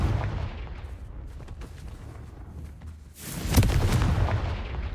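A Confringo blasting spell goes off in Hogwarts Legacy, a deep rumbling boom that swells out of a low background roar and lingers with crackling debris, loud and full.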